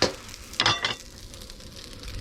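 Soy sauce poured around the edge of a hot pan of egg fried rice hisses in a sharp burst, followed by a second crackling flare, then a fainter steady sizzle.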